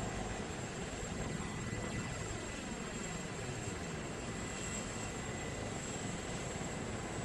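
A helicopter's steady, dense engine roar and rotor drone in Arma 2 fill the clip at constant loudness with no breaks.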